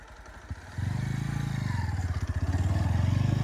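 Bajaj Pulsar NS 125 motorcycle idling, then revving up hard during wheelie practice, a rapid pulsing exhaust beat that rises in pitch and holds steady, close and loud.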